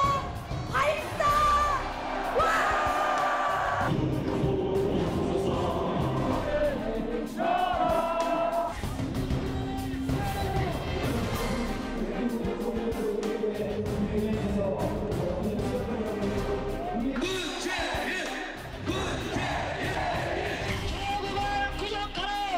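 A large political rally crowd in Seoul shouts and cheers in loud, surging waves, with voices chanting together and swelling at several moments.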